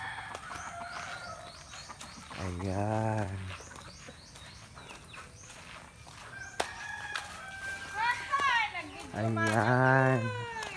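A rooster crowing in a rural Philippine yard, two loud drawn-out cock-a-doodle-doo calls, one early and one near the end, amid people talking and other birds chirping in the background.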